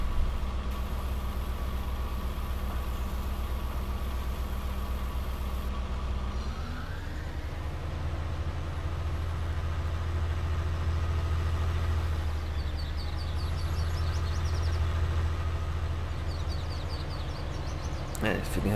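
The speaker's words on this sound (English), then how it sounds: "Man, it's feeling a pretty strong engine." Tractor engine running in Farming Simulator 19 on the Felsbrunn map, a loud steady low rumble throughout with a shift in pitch partway as the revs change, with people talking over it.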